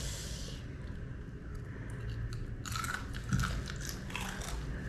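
Crisp crunching bites of a hot, freshly fried bakwan vegetable fritter, several close chews and snaps over a steady low background hum, with no talking.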